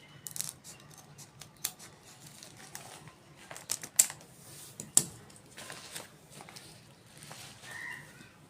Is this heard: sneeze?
no